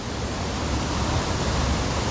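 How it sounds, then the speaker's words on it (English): Steady roar of the waterfall at Harmby, a constant broadband rush of falling water heard close and loud with no break or other sound. "So I can see the top of the waterfall from here where it drops down"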